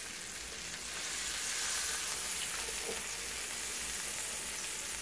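Food fries on a George Foreman indoor outdoor grill with a steady, soft sizzle and hiss that swells slightly after the first second and then holds, with no talking.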